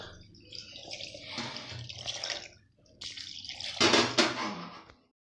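Water poured from a glass into a pot of dal for sambar rice, two close splashing pours with a brief pause between them, the second heavier and more gurgling, with no talk.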